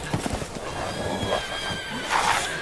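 A horse whinnies and neighs over hoofbeats in Resident Evil Village, with a second louder neigh near the end, all layered over the game's sustained music and ambience.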